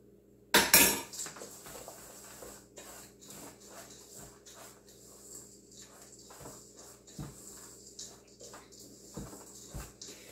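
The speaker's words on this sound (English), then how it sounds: "So I'm transferring to a larger bowl, and I'm going to use a much larger spoon." A large spoon scrapes and clinks against a larger bowl while granola is mixed, with one sharp clatter near the start followed by a steady run of soft scraping and taps up close.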